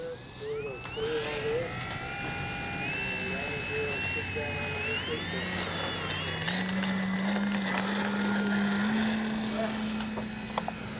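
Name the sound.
E-flite SNJ-5 Texan RC warbird plane flying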